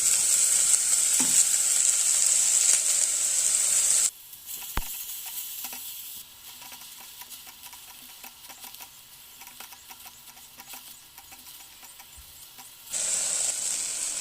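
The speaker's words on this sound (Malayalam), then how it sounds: "നന്നായിട്ട് ചൂടായിട്ടുണ്ട് എണ്ണ നമുക്ക് ഉള്ളി അതിലേക്ക് ഇട്ട് കൊടുക്കണം കൂടെ പച്ചമുളക് ഇട്ടു" Onion and green chili fry in hot oil, a loud steady sizzle at first that drops to a quiet hiss with faint stirring clicks, then swells back to a full sizzle near the end.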